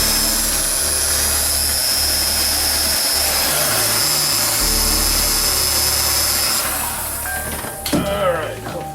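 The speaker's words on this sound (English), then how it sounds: "the next step is to take the heat gun" A heat gun warming a bilge pump hose, blowing with a steady loud whirring roar that holds for several seconds before easing off, followed by a brief rustle of handling near the end.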